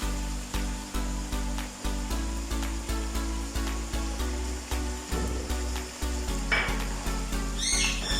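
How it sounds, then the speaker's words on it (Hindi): Chicken jalfrezi vegetables with tomatoes and ketchup sizzle and fry steadily in a pan, with periodic stirring scrapes throughout and no talking. "अब इसको 2 मिनट के लिए पका लेते हैं।"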